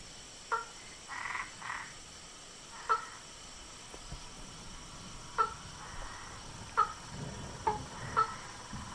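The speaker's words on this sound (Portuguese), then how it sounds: "sapos, pererecas e rãs cantam dentro ou próximo a esses corpos d'água" Several frogs croak at a distance in short, scattered calls with pauses between them over a quiet, faint background.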